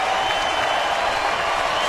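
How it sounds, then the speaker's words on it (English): Stadium crowd at a Houston at San Diego baseball game applauding a departing pitcher as he jogs to the dugout, a steady wash of clapping that stays even and dense throughout. "the fans give him a well-deserved hand as he jogs to the dugout"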